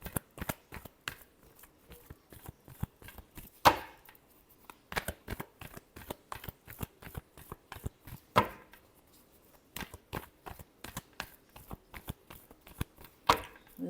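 Tarot cards being shuffled by hand, a long run of quick crisp riffling clicks in irregular bursts with short pauses between, close and fairly quiet.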